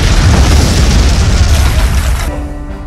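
A quarry blast at an illegal stone mine beside Bannerghatta National Park, a loud, deep boom with a broad rumbling roar that holds for about two seconds, then cuts off into a fading tail.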